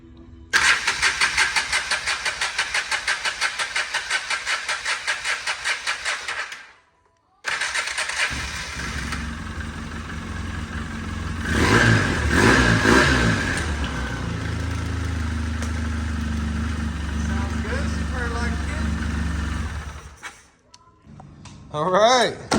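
A Polaris Sportsman 700 ATV cranks with a rapid starter chatter for several seconds, then catches and runs, revving up loudly before settling into a steady idle; a voice speaks briefly near the end.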